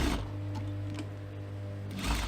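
A sewing machine runs steadily around the edge of a cosmetic pouch. The hum is continuous and close for about two seconds, with a slight surge near the end.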